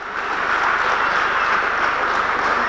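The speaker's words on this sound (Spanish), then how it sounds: "Ovación del público ingeniense al buen hacer de este luchador." Crowd at a Canarian wrestling match in Ingenio giving a loud, steady ovation to an injured wrestler, dense continuous clapping from an arena audience.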